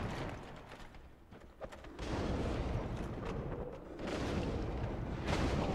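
Enemies breathing fire in a modded Dark Souls game, a loud, steady roaring whoosh that swells in two long bursts over continuous low rumble, with no talking.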